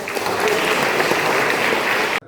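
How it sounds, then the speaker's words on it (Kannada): An audience claps loudly and steadily for the organiser at a Srinivasa Ramanujan birthday ceremony held at a Karnataka high school, a dense crowd of hands that stops abruptly. "ಅವರಿಗೊಂದು ಜೋರಾದ ಚಪ್ಪಾಳೆಯನ್ನು"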